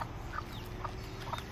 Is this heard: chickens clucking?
yes